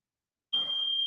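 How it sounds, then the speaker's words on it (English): A household smoke alarm starts up suddenly after a moment of silence and holds a loud, steady high-pitched shriek to the end, with no talking. "My smoke alarm is going off."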